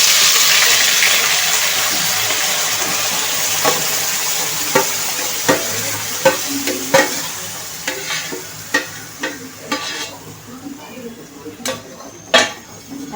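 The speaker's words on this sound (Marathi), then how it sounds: "आपण जे वाटण केलं होतं ते आपण आता तेलावर परतणार आहे" Ground spice paste sautéing in two spoons of oil in a kadhai on a gas stove for potato curry: a loud hiss fading into softer sizzling, punctuated by repeated sharp clinks and scrapes of stirring, close by.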